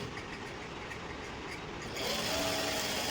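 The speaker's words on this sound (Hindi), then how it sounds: "ऊपर से एक सिलाई लगानी है और यहाँ साइड से भी सिलाई लगा के पॉकेट को अटैच करना है" A sewing machine runs while stitching a pocket onto a pair of pants in a boutique, a continuous mechanical whir that grows louder and busier partway through.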